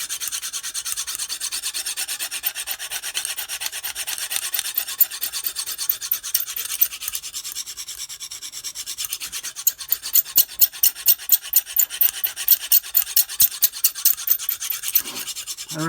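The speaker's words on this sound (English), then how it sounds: "And remember to use equal amount of strokes on each side of the knife." A knife blade drawn across a Lansky sharpening stone gives a steady, close, rasping scrape that speeds into a run of rhythmic, evenly spaced strokes toward the end, with no talk over it.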